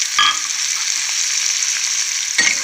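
Curry leaves drop into hot tempering oil with ajwain and crackle loudly, a sharp burst at the start and another near the end over a steady, close frying hiss.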